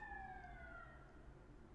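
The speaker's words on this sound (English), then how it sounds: "Holy crap with these sirens." Emergency sirens wail outside a downtown Toronto apartment, their faint, falling tones drifting past in the distance over a low background hum.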